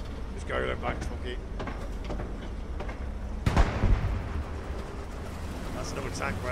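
A single tank cannon blast from another tank in the Hell Let Loose video game, a sudden heavy boom midway through, heard over rumbling in-game engine noise while players talk.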